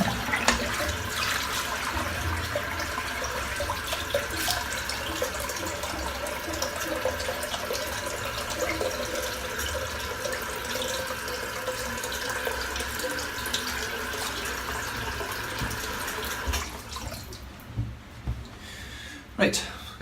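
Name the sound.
water running from tap into sink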